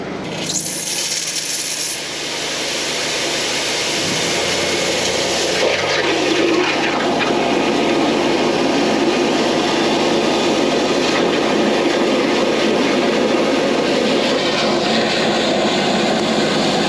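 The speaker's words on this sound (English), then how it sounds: "we're going to try and jet through now right the way to the other side of the building and through to our blocked manhole" Sewer jetter blasting high-pressure water through a blocked sewage drain, a loud continuous roaring hiss that builds after a few seconds and holds steady, with mechanical hum underneath.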